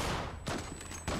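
Gunfire in the online shooter Zula rings out in a quick burst, with several sharp reports spread over about a second against a dense background of game noise.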